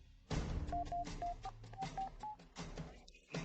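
Telephone keypad being dialed, a quick run of about seven short touch-tone beeps in an uneven rhythm, faint and close, over a soft background rustle.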